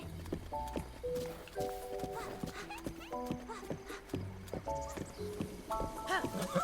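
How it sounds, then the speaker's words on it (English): Epona the horse walking through town in Breath of the Wild, hooves clip-clopping at an unhurried steady pace, close by, over soft game music. "Epona's such a nice, polite horse. She won't gallop in town."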